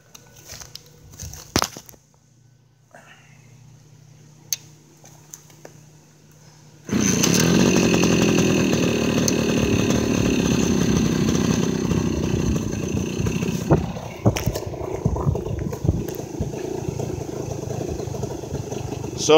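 A 1971 Suzuki MT 50 Trailhopper motorcycle, cold, with a few scattered kicks and clunks before the small engine catches and settles into a loud, steady buzzing idle close by, with some revving blips near the end.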